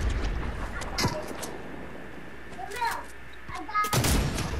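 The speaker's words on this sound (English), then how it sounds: "I'm gonna use my rocket launcher" Rocket launcher fire in the Fortnite video game: a couple of sharp booming blasts with crackling game effects, mixed with other in-game shots and noise, with a voice talking faintly in the background.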